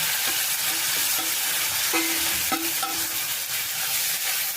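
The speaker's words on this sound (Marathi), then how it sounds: "त्याला चांगलं तेलामध्ये आणि बटरमध्ये परतून घ्यायचं आहे।" Onion and tomato frying in oil and butter for a butter dal fry, giving a steady close sizzle with occasional stirring scrapes throughout, no talking.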